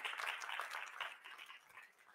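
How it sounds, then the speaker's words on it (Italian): Audience applause at a public talk in Modena, a short, moderately loud burst of clapping from a seated crowd, dense and even, with no voices over it. "Un applauso"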